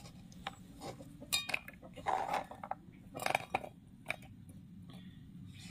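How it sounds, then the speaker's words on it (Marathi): Garlic, ginger and green chilies being chopped into small pieces for chicken pakoda, giving scattered light knife taps and clinks on a board, irregular and fairly faint over a low background hum. "आला लसूण आणि मिरचीचे बारीक तुकडे तयार करा।"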